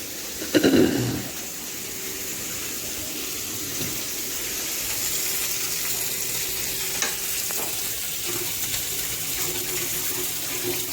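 Onions softening in a pan give off a faint, steady sizzle for several seconds, preceded by a brief clatter of stirring at the start.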